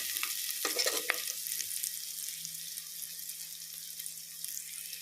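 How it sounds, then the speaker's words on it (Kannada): Onions frying lightly in a pan for mushroom biryani give a steady, soft sizzle that holds throughout, with a few brief stirring scrapes near the start. "ನೀರುಳ್ಳಿ ಲೈಟ್ ಫ್ರೈ ಮಲ್ಪಡು"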